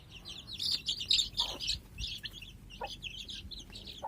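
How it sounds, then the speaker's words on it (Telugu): Young chicks peep and chirp busily while being fed, a dense run of bright, overlapping calls close by with no voices. "మా బుద్ధి కోడి పిల్లలకు కొంచెం వేస్తాను, చూడండి అవి ఎలా తింటాయో."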